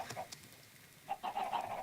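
Chickens on a video game chicken farm cluck and squawk in short bursts, a few scattered calls at first, then a denser run of clucking at moderate loudness.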